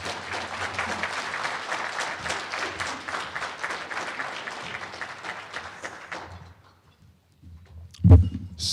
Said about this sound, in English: Please give a hearty hand of applause for our keynote speaker, Shamar Heron.